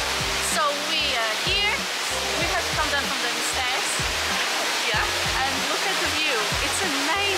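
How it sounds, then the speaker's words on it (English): Steady roaring rush of falling water from a waterfall, broad and constant throughout, with faint voices and clatter mixed underneath. "waterfall. It's so beautiful there."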